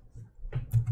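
A few soft keystrokes on a computer keyboard as a search term is entered into a manual, sparse and close, with brief clicks clustered near the end.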